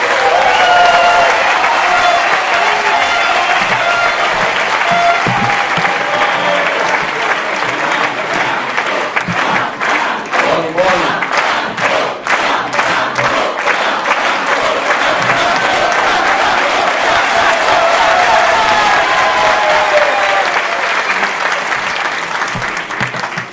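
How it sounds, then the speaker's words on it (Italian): A large audience at a national party assembly in Rome gives sustained, dense applause welcoming a speaker, a loud continuous roar of clapping that holds steady throughout with rhythmic unison clapping emerging in the middle. "al nostro generale Gianfranco Amato, che accogliamo un grande applauso."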